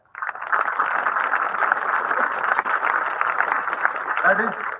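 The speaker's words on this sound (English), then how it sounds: "A big round of applause for them." Audience at a district-level inter-school English debate competition breaks into applause after the speakers, a loud continuous burst of clapping starting abruptly and holding steady to the end.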